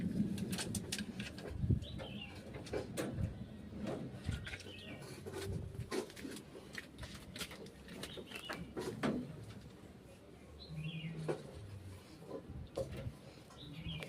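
Pigeons coo softly in short, repeated phrases on a damp, rainy day, faint and close, with occasional clicks and light handling noises around them and no talk.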